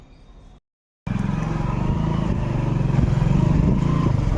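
Motorcycle engine fired up at a fair after a moment of near silence, then a loud, close, steady running idle with a rapid pulsing beat that continues throughout.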